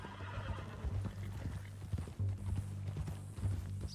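Horse from Red Dead Redemption 2 whinnies and snorts while hooves clop steadily on the ground, close and fairly loud throughout, with no talk.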